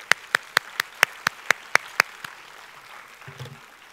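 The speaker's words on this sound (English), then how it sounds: "Can we have a round of applause," An audience claps for a speaker coming on stage at a science and technology innovation event in India, about nine sharp, evenly spaced claps, then a faint low murmur of voices.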